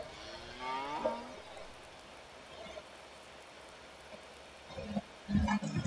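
A cow moos clearly near the start in Farming Simulator 19, followed by quiet ambience with faint rustling and a few soft knocks toward the end.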